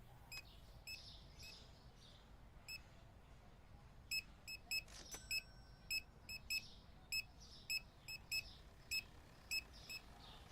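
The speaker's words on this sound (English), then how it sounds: "Beep, beep, beep, beep." Short electronic checkout beeps repeat at a steady pace in Supermarket Simulator, roughly a dozen bright chirps starting partway through over a soft background hum, faint and without talk.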